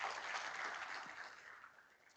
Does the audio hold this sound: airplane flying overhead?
no